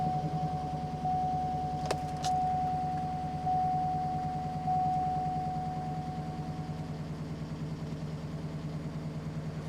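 A Cadillac Escalade engine starting and then running, a steady idle drone with a brief click at the start, heard up close and alone.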